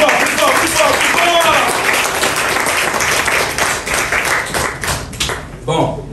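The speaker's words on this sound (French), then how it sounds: "je vous demande d'applaudir très fort pour nous tous qui sommes dans cette salle" A hall full of people applauds loudly at an investment company's inauguration, a dense crowd of clapping hands with some voices mixed in, holding strong before thinning near the end.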